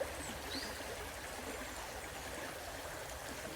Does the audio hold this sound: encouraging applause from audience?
no